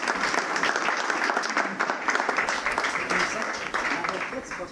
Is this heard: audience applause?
yes